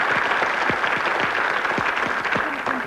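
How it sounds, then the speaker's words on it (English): A 1991 TV game show studio audience applauds steadily for contestants, a full even wash of clapping with a few louder claps nearby. "Give them another round of applause, ladies and gentlemen."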